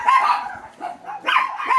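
Several pet dogs bark and yip indoors in a home, short sharp barks coming in bursts, fairly loud and close, with no talking over them.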